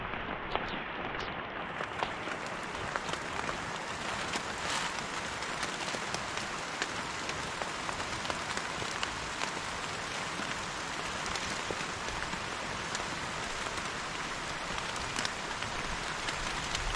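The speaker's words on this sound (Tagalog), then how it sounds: "Ito po, ulan." Steady rain pours down in a dense, continuous hiss, with scattered louder drops pattering on a surface close by.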